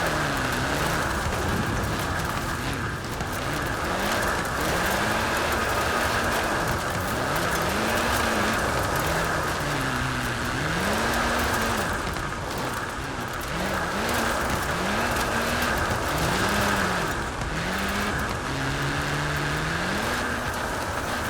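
A Ford GT70 in Forza Horizon 4 drives and slides sideways up a trail, its engine steadily droning and rising and falling in pitch with repeated revs and gear changes, loud and continuous, with tire noise beneath.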